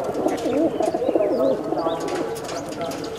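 Rajan-breed pigeons coo steadily up close, a dense warbling chorus of several birds throughout, with faint chirps and a brief flutter above it and no one speaking.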